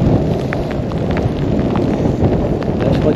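Wind buffeting a microphone during a long road bike ride, loud, low rumbling gusts that roar continuously, close and without any talk.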